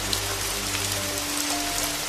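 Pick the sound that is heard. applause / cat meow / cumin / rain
rain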